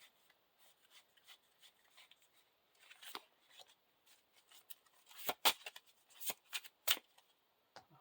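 A deck of cards for a cooperative Lord of the Rings card game being shuffled, with soft riffles and rubbing building to several sharp, close bursts of card flutter, no voices.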